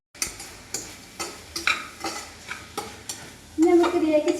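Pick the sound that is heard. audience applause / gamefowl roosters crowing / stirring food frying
stirring food frying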